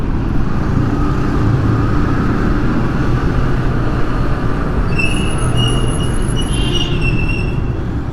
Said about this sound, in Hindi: अहमदाबाद रेलवे स्टेशन के बिल्कुल सामने है अभी हम।